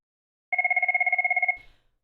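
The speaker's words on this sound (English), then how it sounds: "When your phone is ringing," A Cisco 6921 desk phone rings with a single rapid electronic trill of about one second, loud and close, followed by a faint click and silence.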